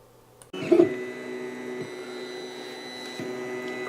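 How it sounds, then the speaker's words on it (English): A 3D printer starts up after a moment of quiet and keeps printing, a loud steady mechanical hum with tonal motor whine and occasional small shifts as the extruder moves, no voices. "Look, Glenn, it's printing. Holy crap, printing"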